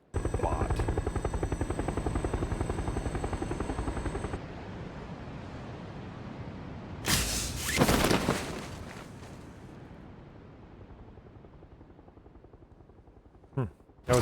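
An airplane engine in the PUBG video game drones loud and continuous with a fast pulsing beat, then fades into a softer rumble while sharp bursts and clatters break in, ending with a couple of abrupt hits.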